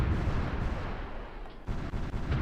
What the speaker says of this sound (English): We do have artillery, which is going to do a little bit of damage on us